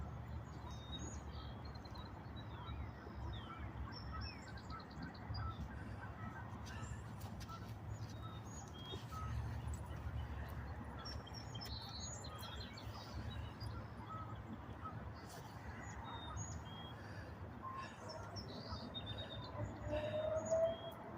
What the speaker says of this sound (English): You can hear all the wild ducks in the background.